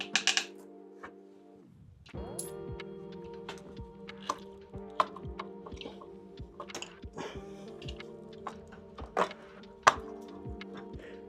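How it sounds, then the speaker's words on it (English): Metallic clinks, taps and small knocks of tools undoing the top radiator mounting post on a fire-damaged Yamaha R6 motorcycle, a steady run of close, sharp ticks and clunks in a quiet workshop. "we can undo the top post for the rad"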